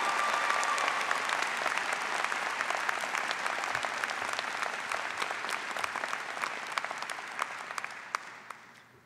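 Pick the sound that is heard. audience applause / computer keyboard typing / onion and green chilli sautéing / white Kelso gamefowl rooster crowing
audience applause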